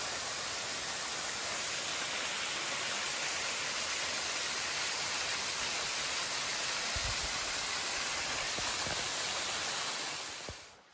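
Waterfall on a mountain trail, a steady dense hiss of falling water holding even throughout before cutting off at the end.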